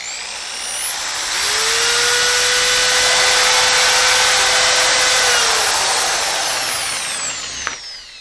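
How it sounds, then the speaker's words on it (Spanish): A Milwaukee cordless rotary hammer drill whines at a steady high pitch, spinning up and holding for several seconds before winding down, loud and close. "Aquí también tengo este otro rotomartillo de la marca Milwaukee."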